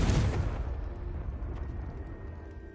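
A Confringo blasting spell in Hogwarts Legacy explodes with a loud, booming burst at the start, then rumbles and fades into a long, decaying tail over the following seconds.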